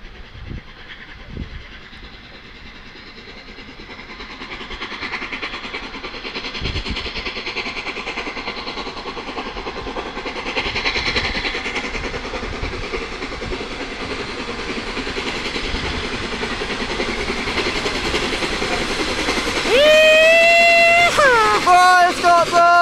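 The Flying Scotsman steam train draws closer and passes, its rumble and rolling clatter building over about twenty seconds before loud, sharp whistle-like squeals near the end.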